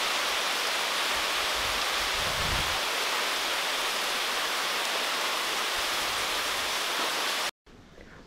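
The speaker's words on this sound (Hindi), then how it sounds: "ज़बरदस्त वाली बारिश है।" Heavy rain pours in a dense, loud, continuous hiss, steady throughout before cutting out abruptly near the end.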